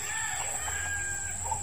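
A Kaitlog chicken crows once in a drawn-out call, close and fairly clear, over a steady low background hum.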